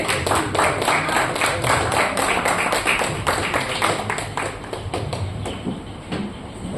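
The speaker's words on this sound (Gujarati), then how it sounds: "જોરદાર તાળીઓથી એમને વધાવી લઈએ." Steady, dense applause from an audience welcoming guest Mayurbhai Desai onto the stage at an elders' felicitation ceremony, sustained for the whole stretch with only a slight easing near the end.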